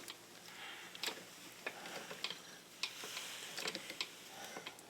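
Ratchet on a long extension tightening a hose clamp on a Porsche 944 Turbo, a quiet, close series of irregular ticking clicks spread across the moment.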